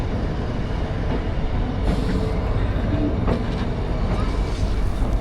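The Shimla-Kalka toy train pulls away from Shoghi railway station on the mountain narrow-gauge line, a close, steady rumble with wheel clatter and faint squeals throughout.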